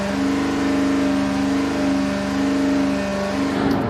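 A V8 engine on a dynamometer holds steady at 3,000 RPM, a loud, even, droning hum with a strong low tone and a faint pulsing beat, unchanging for the whole stretch.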